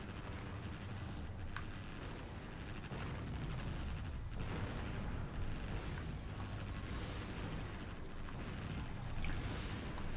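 Bomb blasts and heavy gunfire from the naval combat video game Naval Ops: Warship Gunner, a dense, continuous rumble of booming explosions with sharp bursts standing out, loud and close, with no talking over it.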